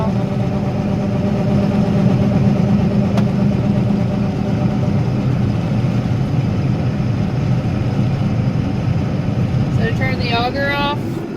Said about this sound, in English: here's our grain unloading